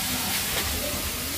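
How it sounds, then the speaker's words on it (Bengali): Potatoes fry in ghee in a pan, giving a steady, close, broadband sizzle and hiss with no break. "আর এখানে আলু ভাজা করে দিচ্ছে মা"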